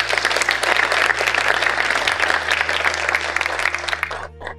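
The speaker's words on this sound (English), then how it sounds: "Please give a round of applause," A crowd claps steadily and loudly for a student speaker at an Independence Day celebration on a Goa university campus, the dense applause holding throughout before thinning at the end, over a low steady hum.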